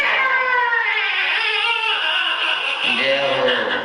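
A storyteller voice imitating a baby crying, a loud wavering wailing cry that rises and falls continuously, ending with a lower whimpering tone.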